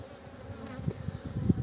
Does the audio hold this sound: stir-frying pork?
no